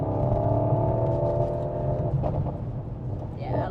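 A car at Millbrook Proving Ground, a Mercedes-AMG GT63 or Alpine A110R, held at a steady engine drone that fades away while a voice talks over it, before a brief rising whine near the end.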